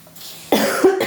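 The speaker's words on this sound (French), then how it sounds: "mais lire me fait tousser" A single close cough bursts out sharply from a woman after a quiet moment, with a harsh follow-up expulsion of breath.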